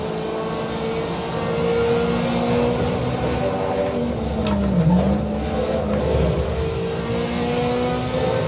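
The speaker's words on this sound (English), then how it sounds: "I'm actually intentionally trying to drift and drive in a fun way." A racing car engine in the video game Assetto Corsa EVO drones and revs continuously, with pitch dipping and rising through turns and a brief tire squeal as the car drifts.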